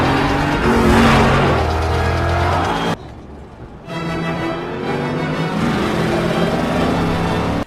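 A car chase in the 2006 film The Marine, with a commandeered police car pursuing kidnappers: loud, continuous engine roar and revving up close, briefly dropping away midway before surging back.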